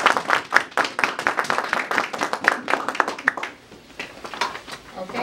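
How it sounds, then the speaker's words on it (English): An audience at an elementary honor society induction applauds the new inductees with dense, brisk clapping that runs strong for several seconds, then thins and quiets toward the end. "Let's give them a round of applause."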